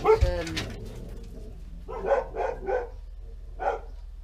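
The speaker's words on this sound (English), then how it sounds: "I can't ever do a video without the dogs interrupting with some barking" A dog barks several times in a short rhythmic series, fairly close, after a brief muffled noise at the start.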